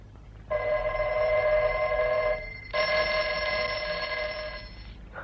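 A telephone bell rings in two long trills separated by a brief gap, bright and steady, moderately loud indoors, with no voices over it.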